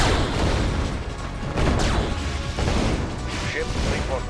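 Warships in the game Red Alert 2 fire repeated heavy cannon blasts and crashing impacts in quick succession, with game unit voice responses mixed in.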